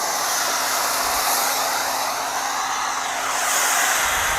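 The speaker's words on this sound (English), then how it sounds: "The wind's blowing it back in my face." Wind blowing outdoors during a truck wash, a loud continuous broadband rush that stays steady throughout with no talk.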